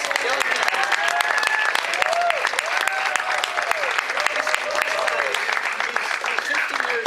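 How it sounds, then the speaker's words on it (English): A room full of people claps for a man's 50th birthday, a brisk, crackling round of applause that stays loud and steady, with voices talking and calling out over it. "I want everyone to give Ray a happy birthday clap"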